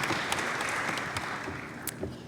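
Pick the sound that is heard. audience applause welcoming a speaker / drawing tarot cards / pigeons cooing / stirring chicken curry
audience applause welcoming a speaker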